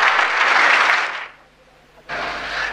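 Congregation clapping during a church sermon: a loud, broad burst of applause that fades into a brief lull and then surges back just as strongly.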